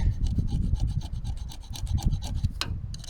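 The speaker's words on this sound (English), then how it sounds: "So here's our pointy scribey thing. Just going to put a line like that." A pointed metal scribe scratches a line onto a Peugeot 306 wiper motor casing, giving a close, steady run of rapid raspy strokes that stops abruptly near the end.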